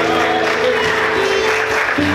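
A church congregation applauding during a Sunday morning service, steady dense clapping with harmonic tones from music or voices underneath.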